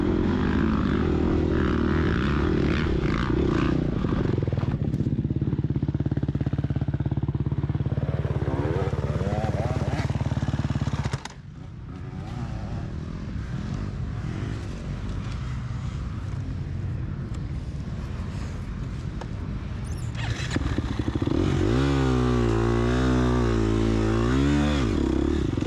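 A dirt bike engine in a harescramble race drones and revs hard, with a long steady roar, a sudden drop, then uneven throttle bursts and a rising, wavering whine near the end.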